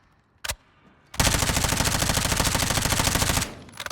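Lachmann Shroud gun in Warzone: a single sharp shot, then a loud rapid-fire burst of about two seconds, ending in a short tail of scattered shots.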